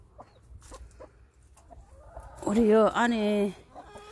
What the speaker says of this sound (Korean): 나는 요 꼬꼬가 무서워.